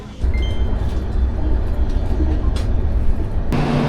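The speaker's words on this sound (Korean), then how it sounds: "기차 타고 가는 거는 더 빨라요" Steady rumble of a train ride in Korea on the way to a butterfly festival, a dense low rolling roar that holds throughout at close range, with a sharper shift in tone near the end and no talking.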